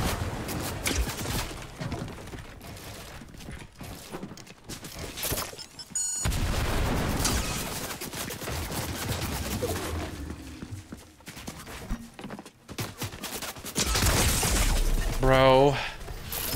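Explosive Boom Bow shots in the video game Fortnite, with bursts of blasts and shattering impacts spread across the stretch and players talking over the game sounds.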